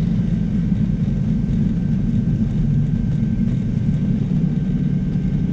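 Cirrus SR22T airplane on landing approach with power being reduced, a steady, loud low engine and airframe drone heard from inside the cabin, continuous and unchanging throughout.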